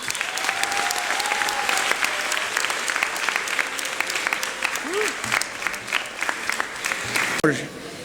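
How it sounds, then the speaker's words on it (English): Audience at a girls' school end-of-term event applauding to welcome a chief guest, loud sustained clapping from a large crowd with a few brief voices and shuffles mixed in. "With utmost applause, ladies and gentlemen, please welcome the beautiful, the talented Mrs. Ratna Pathak Shah."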